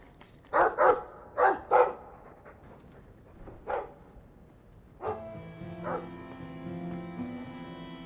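A dog in the video game Dragon Age II barks in a quick series of sharp, fairly close woofs, pausing for a single bark before a low musical tone starts in the background.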